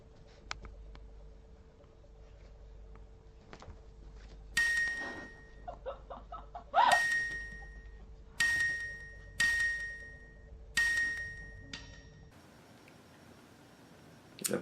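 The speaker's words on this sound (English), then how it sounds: "That dinging noise you hear in the background is dude's tipping her" Tip notifications ding from a live stream playing in the background: several bright chimes arrive in a series, each ringing briefly, over a steady faint hum with small clicks and no talk.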